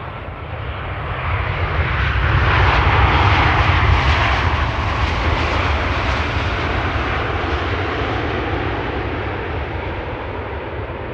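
Aircraft PH-BKM, about two years old, at Amsterdam Schiphol, with loud jet engine roar swelling over the first few seconds and then holding steady as the plane passes close by, with no voices.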